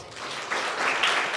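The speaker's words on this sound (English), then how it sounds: "Let us all welcome Sri Swamiji with another round of applause" Brief burst of audience applause welcoming Sri Swamiji at a Hindu spiritual program in Charlotte, a dense continuous clapping wash that swells slightly.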